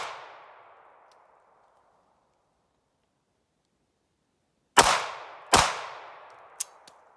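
Ruger LCP MAX .380 pistol fired one-handed: two loud close cracks less than a second apart, each ringing out with a metallic tail, followed by a small click, after a fading earlier ring and near silence.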